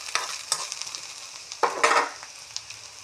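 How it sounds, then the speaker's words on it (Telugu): Eggplant fries in a pan, with quiet crackling under loud scraping stirs in uneven bursts, heard up close and with no talking. "వంకాయ వేగుతూ ఉందండి, కొత్తిమీర వేయాలి,"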